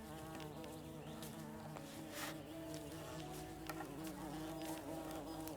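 Continuous insect buzz from a bee in Laysara: Summit Kingdom that sounds more like a housefly, steady and close under faint game ambience, with no talk.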